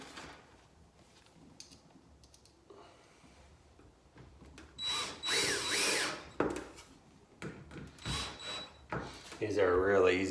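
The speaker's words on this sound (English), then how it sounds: "so I'm going to go ahead and screw the rest in." A power drill drives screws into a brass kick plate on a six-panel exterior steel door. After a quiet start come several loud whirring bursts of a few seconds each, with short pauses between them.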